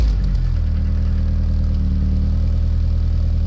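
Ford Mustang Foxbody V8 with new catalytic converters idling after a cold start, a steady, fairly quiet low rumble with an even pulsing beat and a brief rougher flare at the very start, no voices.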